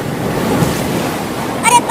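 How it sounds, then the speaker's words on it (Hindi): Cartoon floodwater rushes into a house as a steady, loud, broad wash of surging water that continues throughout, with a brief brighter swell near the end. "अरे पानी तो अब घर में भी आने लगा"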